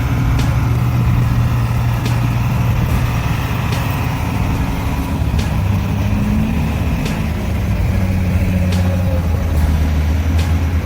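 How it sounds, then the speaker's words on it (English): A giant snowplow pushing through a raging blizzard, its heavy engine droning steadily and loudly throughout, with sharp hissing bursts breaking through at regular intervals. "In the midst of the raging blizzard, a giant snowplow was advancing fiercely."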